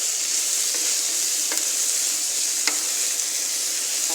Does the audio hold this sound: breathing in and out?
no